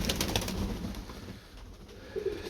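Pigeons coo softly close by, giving a few low, rounded cooing calls with rustling around them, fairly quiet and without talk.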